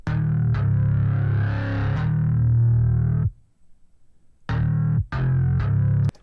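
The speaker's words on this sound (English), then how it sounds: "that's a very heavy bass" A heavy, distorted electronic bass line played on its own in a music mix, with sustained thick notes, a short gap of near silence, then several punchy repeated hits close and loud.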